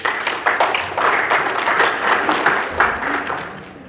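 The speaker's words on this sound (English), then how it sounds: "Please clap." An audience at an academic conference at the University of Dubai applauds steadily, a dense wash of clapping from many hands that swells and holds without talk.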